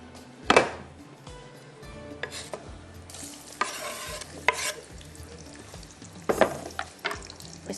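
Onions frying in hot oil as they are stirred until brown, a steady sizzle broken by sharp, close scrapes and clatters of a spoon in the pan, with no talking.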